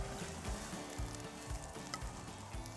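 Rib eye steaks sizzle steadily on a fire grill, a close, continuous crackling hiss with small pops, no talking.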